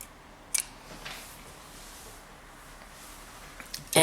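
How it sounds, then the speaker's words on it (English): Scissors snip through beading thread while pearl, superduo and seed bead earrings are made: a quiet click near the start and another at the very end, with near-silence between. "Here's where we're going to cut off the thread."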